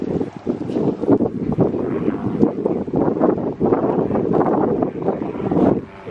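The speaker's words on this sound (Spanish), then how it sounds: "Es por demás porque está haciendo mucho viento." Strong outdoor wind buffets the microphone with a steady, loud, broadband roar that rises and falls in gusts for the whole stretch.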